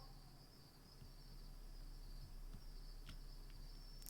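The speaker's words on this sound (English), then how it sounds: "Chirping of crickets in the tall grass greeted you, quiet and familiar." Crickets chirp steadily in tall grass in a video game, a continuous thin high trill carrying through a quiet, hissy night ambience with a few faint clicks.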